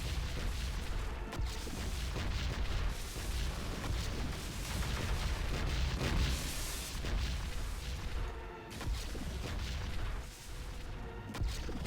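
Minos cannon fire in the strategy game Siege of Centauri, with heavy booming blasts that keep coming one after another over a dense rumbling battle din.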